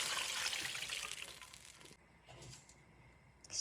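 Water pours into a pan of oil, peppers and tomato paste, a hissing rush that fades after about two seconds, followed by quieter trickles and a final splash.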